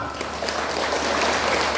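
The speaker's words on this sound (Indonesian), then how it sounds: "Lebih hebat lagi kita beri tepuk tangan untuk Tuhan" Christmas church congregation claps together in a loud, continuous burst of applause, a dense even roar of hands with no voices standing out.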